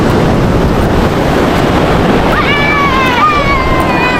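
Steady broadband roar of surf washing onto Bagasbas beach in Daet, Camarines Norte, with wind buffeting the microphone and a high voice calling out partway through.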